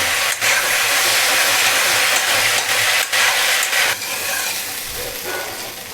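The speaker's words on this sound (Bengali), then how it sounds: "সবজিটা একটু ভাজা ভাজা হয়েছে" Potatoes and vegetable stalks fry in a pan with a steady, close, loud sizzling hiss that runs throughout and eases slightly toward the end, with no talking.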